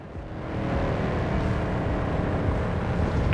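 Steady loud engine roar of a car in Forza Horizon 4, a constant droning rumble held at even volume throughout with no talking.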